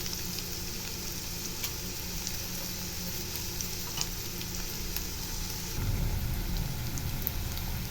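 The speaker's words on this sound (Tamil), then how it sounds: "இந்த எண்ணெயிலே வெங்காயம் நல்லா வதங்கணும்." Sliced onions frying in hot oil in a pan for an egg gravy, a steady close crackling sizzle, with a denser stirring rumble toward the end.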